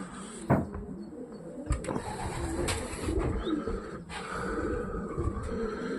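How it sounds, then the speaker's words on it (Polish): Soft racing pigeon cooing, a few low throaty calls amid faint background clatter and rustling, no speech. "o jest następny gołąb"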